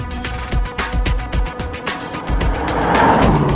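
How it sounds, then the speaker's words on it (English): A 2008 Mercedes-Benz C63 AMG's V8 engine roars and pulses as the car accelerates at full throttle, its deep exhaust rumble building in intensity, close by. "You floor it, and along with that acceleration is that glorious V8 exhaust note."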